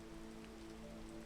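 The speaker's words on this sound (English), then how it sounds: "we're gonna have to hold here for a bit because it's raining" Steady, faint rain falls in a video game, a soft continuous patter with no other sounds over it.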